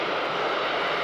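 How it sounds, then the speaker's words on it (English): Jet engine roar from the Short SC-1, the 1958 VTOL aircraft that made the first vertical takeoff, heard as a loud, steady, broadband rush with no pauses and no voices. "The SC-1 became the world's first VTOL aircraft to achieve vertical takeoff in 1958."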